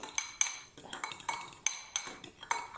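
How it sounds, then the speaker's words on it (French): Utensil stirring homemade modelling dough ingredients with a few drops of colouring in a bowl, giving quick repeated clinks and scrapes in an irregular rhythm, close and fairly quiet. "on mélange tout ça"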